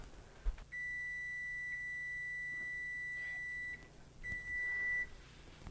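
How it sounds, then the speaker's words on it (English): A kitchen timer's steady electronic beep tone holds for about three seconds, pauses, then sounds again briefly; clear and close in a quiet room. "Plus, your timer will go off."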